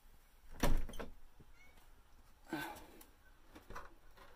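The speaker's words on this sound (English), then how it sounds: "one of my cats is meowing at the door" A cat meows at a door indoors, several short, faint calls spread over a few seconds with quiet room noise between them.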